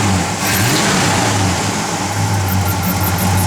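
A 1970 Pontiac GTO with a mild aftermarket cam revs its V8, a deep rumbling mid-pitched engine note rising and holding, close and loud with no talking.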